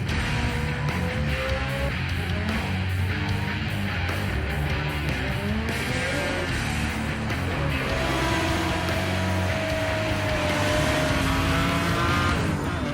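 Race car engines roar with rising and falling pitch sweeps as cars pass, joined by tire squeals and skids, all from a racing video game; loud and continuous throughout, with no talking.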